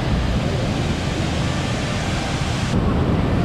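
A high-volume river rushing through the forest of Itatiaia National Park in Brazil, heard as a loud, constant, dense roar of turbulent water filling the whole clip with no break.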